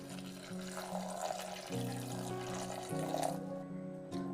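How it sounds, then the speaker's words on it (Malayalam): Water pours steadily for several seconds, with a low humming tone running underneath. "ആവശ്യത്തിന് വെള്ളം,"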